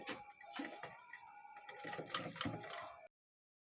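A sewing machine stitches a garment seam with a quick, rattling mechanical whir of the needle, a few sharp clicks near the end before it stops abruptly, recorded fairly quietly.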